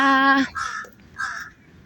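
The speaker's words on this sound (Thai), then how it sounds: "ตัวอีกาดำๆ เห็นไหมเพื่อนๆเห็นไหมคะมันร้องเสียงดังลั่นเลย" A crow caws loudly and close by in Benchakitti Park, Bangkok, a long harsh call followed by two shorter caws with brief gaps between.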